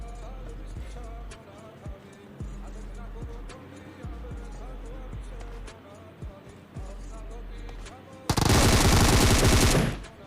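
Gunfire from a mobile shooting video game comes as scattered sharp shots under a low engine-like hum, followed by a loud, sustained burst of rapid fire near the end. A voice talks through part of it.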